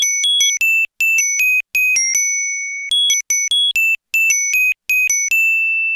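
A bright carillon-like bell melody recreating a dark-toned rap track, played alone as clear repeated phrases of short chimed notes with sustained ringing tones, loud and close.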